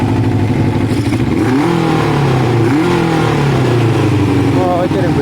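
Kawasaki ZL600 motorcycle engine running on half choke, a steady mid-pitched drone with two rising and falling revs, close and loud throughout.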